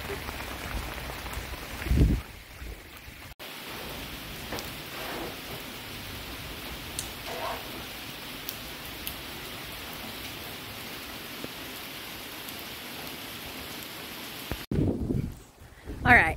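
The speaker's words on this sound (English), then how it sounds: "That's more than a sprinkle." Heavy rain pours over a Missouri garden during a July thunderstorm, a dense, constant hiss of drops on surfaces close by with scattered louder splatters and brief rustling bumps at the start and end.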